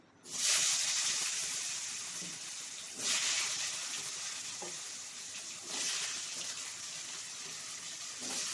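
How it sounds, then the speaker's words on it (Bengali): Diced potatoes fry in hot oil in a pan, a steady loud sizzle with bursts of fresh crackle each time the pieces are stirred, no talking over it. "আলুটা ভালো করে ভেজে নেব"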